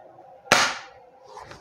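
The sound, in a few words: Kjworks M700 bolt action airsoft rifle firing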